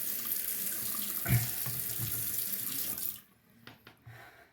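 Tap water runs steadily over a Shapton 1500 sharpening stone for about three seconds, then shuts off, leaving a few faint drips and small handling sounds.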